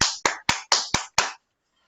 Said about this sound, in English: So big round of applause for you.